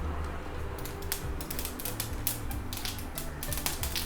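Mustard seeds and urad dal splutter and pop in hot oil while tempering for an ivy gourd fry, a dense run of crackling bursts over a low background hiss.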